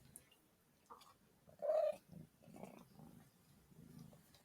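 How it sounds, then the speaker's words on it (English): A cat named Rotunda gives a short trill and low rumbling purrs, close and fairly loud in bursts against a quiet room. "a little brrr, and then some purrs. The loudest purrs on the planet from Rotunda"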